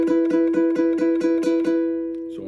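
A single chord from a song is strummed on a high G ukulele in steady, percussive down strokes, about seven evenly spaced hits before it rings out, close and clear.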